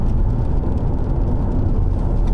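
A Jeep Cherokee Sport 4x4 with a 2.4-litre four-cylinder engine pulls away under gentle, steady acceleration, a low continuous engine drone heard from inside the cabin with no talking.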